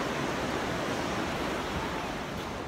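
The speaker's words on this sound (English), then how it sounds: "I'm at the beach, but it's for a good cause." Ocean waves at a California beach, heard as a continuous broad wash of surf with some wind noise, steady and fairly close, with no voices.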